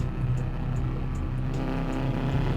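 A rally car engine in Dirt Rally 2.0 drones at a steady high pitch through a jump, the note held evenly with no voices present.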